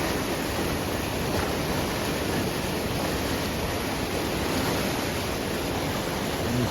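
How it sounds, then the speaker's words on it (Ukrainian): Small waterfall on the Irpin river after rain, a steady broadband rush of falling water that stays loud and even throughout, with no voices over it. "А тут такий ось де водопад."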